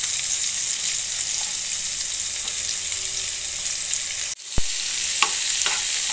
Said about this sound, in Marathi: कांदा छान परतवून घ्यायचा